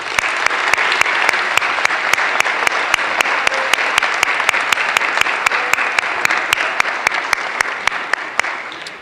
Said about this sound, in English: show your appreciation to all of them with a heartfelt round of applause